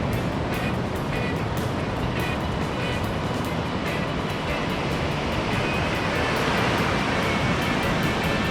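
A waterfall roars as a steady, dense broadband rush of falling water through a sunny outdoor scene in California, constant and fairly loud with no voices heard.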